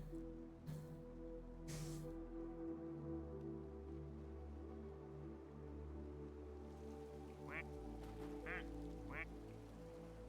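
Ducks in the game Daemonologie give a few faint quacks late on, heard over a quiet, steady musical drone with soft drips and squishy sounds.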